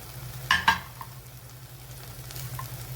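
Dry spice powders including coriander, kitchen king and garam masala, with turmeric and salt, fry for a paneer curry, making a faint sizzle broken by two quick spoon clinks early on.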